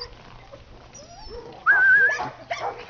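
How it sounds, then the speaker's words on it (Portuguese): Young puppies kept in a pen whimper and let out short yips and barks, with a loud whining cry rising in the middle of the clip, all close by over a quiet background. "Cachorro que eu gosto bastante,"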